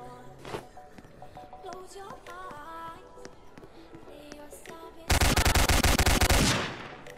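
Rapid automatic gunfire in the video game Apocalypse Rising, a loud sustained burst of shots that starts abruptly after assorted game sounds and quieter tones, then cuts off.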